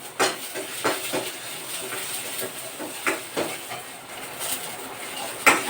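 Onions sautéing in oil in a pan, a steady hissing sizzle broken by sharp clinks and scrapes of a utensil against the pan, close by, with no talking.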